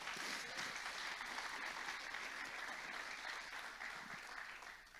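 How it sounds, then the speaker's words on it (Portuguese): A church congregation at a Sunday service applauds in a steady wash of clapping, fairly even and moderately distant, fading a little at the close. "Pode aplaudir ao Senhor?"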